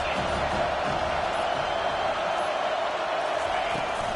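Steady stadium crowd roar during a college football game, Ohio State versus Penn State, as fans cheer the defense on third down; a continuous wash of crowd noise fills the whole stretch without clear peaks.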